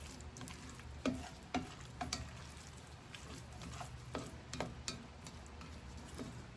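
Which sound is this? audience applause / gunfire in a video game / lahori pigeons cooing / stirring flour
stirring flour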